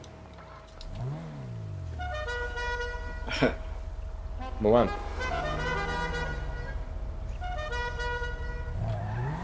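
A custom melodic car horn in the online driving game GTA 5 plays a tune of several sustained notes over a running engine idle, with game sounds and a brief spoken word mixed in.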